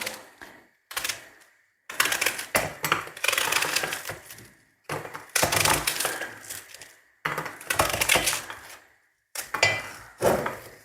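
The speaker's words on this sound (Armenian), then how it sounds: "Սոխը մաքրեցի, լվացի, հիմա էլ այսպես կտրատեմ" Knife chopping a peeled, washed onion on a cutting board: bursts of rapid, sharp knocks of blade against wood, close and loud, in several runs separated by short pauses.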